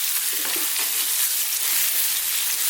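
Hefty lamb chunks sizzle steadily in a pan over above-medium heat for a dry Indian lamb fry, with soft scraping stirs coming through the constant hiss; no one talks.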